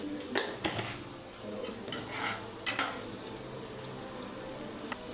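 A spoon stirs egg bhurji with turmeric and salt in a pan, giving scattered light metallic clinks and scrapes over a quiet background, with no talking.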